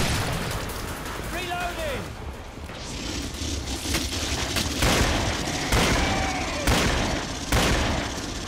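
Gunfire in the Killing Floor shooter, a ragged series of loud, booming shots and bursts spaced roughly a second apart, mixed with echoing impacts and a faint whistling tone early on.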